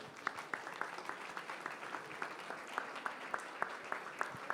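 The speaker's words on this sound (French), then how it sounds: "Je voudrais vraiment qu'on applaudisse Yves Gégaud" Scattered individual claps from an audience honouring Yves Gégaud at a magazine certification ceremony. Sharp, distinct hand claps sound faint and distant, landing in a loose, uneven rhythm rather than a full ovation.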